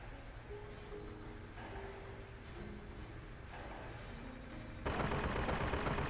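Gun sentinels firing in BioShock Infinite: steady mechanical automatic gunfire with whirring and clanking, rising into a louder, denser burst near the end, no talk.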